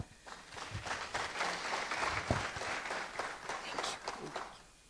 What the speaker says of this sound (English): We clap for her.